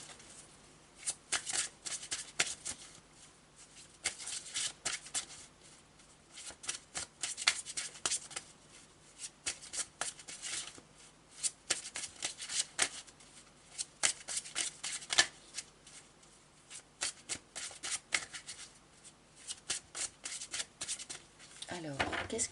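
Tarot de Marseille cards being shuffled by hand in a long run of soft, rapid riffling bursts with brief pauses, quiet and close.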